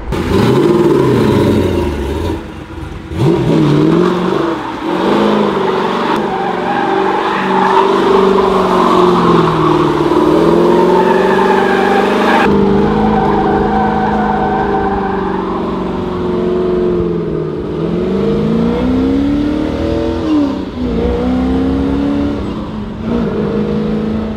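A 1968 Camaro SS V8 engine revs hard and roars continuously through burnouts and donuts, loud and close with rising and falling pitch sweeps, no talking.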